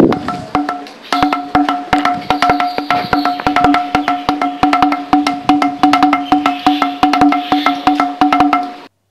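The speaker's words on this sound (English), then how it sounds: "Now, if you tap this, you will hear the sound of these drums." A carved stone temple pillar is tapped in quick, rhythmic strokes, each giving a resonant, drum-like tone. The struck notes ring close and loud in a steady, repeating pattern for several seconds.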